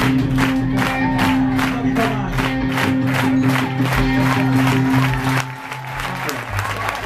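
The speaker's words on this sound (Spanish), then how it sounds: "vosotros vais a dar palmas y él la va a tocar a la velocidad que queráis" A live audience at a concert claps in a fast, even rhythm along with a band's music, loud and close, the clapping fading out near the end while the music continues.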